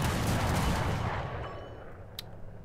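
A ZUT-37 anti-aircraft gun blazes away in War Thunder, a dense, loud burst of rapid autocannon fire that rumbles and echoes before trailing off into a fading roll, with a sharp click near the end.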